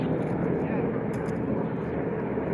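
Aircraft engines from planes circling overhead above the Pulaski Skyway in a 1938 radio drama, a dense continuous drone that stays loud and steady throughout.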